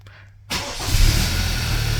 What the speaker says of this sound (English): After we start the car